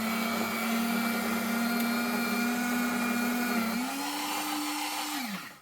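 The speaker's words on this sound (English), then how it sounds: "All right, I'm going to shred it. This is my shredder." An electric paper shredder runs steadily, shredding an envelope with a continuous motor hum that shifts pitch slightly near the end before winding down and stopping.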